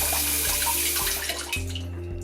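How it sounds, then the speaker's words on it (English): A steady stream of water sprays over a small pop-down bidet nozzle fitted to a toilet during its self-cleaning cycle, a continuous close hiss and splash with a low mechanical hum underneath. "there's a stream of water that's going to spring all over that little nozzle"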